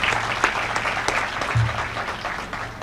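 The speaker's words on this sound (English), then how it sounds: "Please give them a round of applause." Audience applause at an outdoor Purple Light Nights lighting ceremony, a steady wash of many hands clapping at moderate distance, sustained for the whole stretch with a few sharper individual claps standing out.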